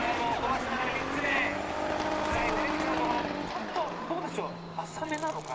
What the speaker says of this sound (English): Car doesn't sound super healthy, but he's on gas all the way down.